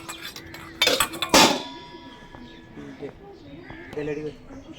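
Large old metal spoons from a ship's kitchen clink and clatter together in a brief close burst of bright metallic knocks, followed by someone talking.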